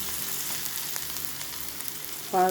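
Ingredients sautéing in a pan for a Tamil dal rice and cassava fry meal, giving a steady soft sizzle throughout, with a brief louder burst of clatter or hissing near the end.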